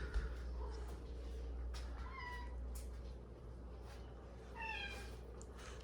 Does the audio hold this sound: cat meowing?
yes